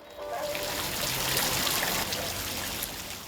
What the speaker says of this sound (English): the water spout from the fish's mouth ranges from large to small